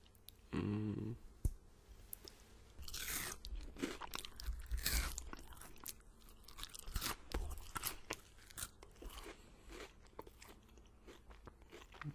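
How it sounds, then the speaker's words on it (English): Close, crisp crunching and chewing of a Kit Kat chocolate bar, with repeated light bites and irregular crackly mouth sounds over twelve seconds, no talking. "It's a very light crunch to it."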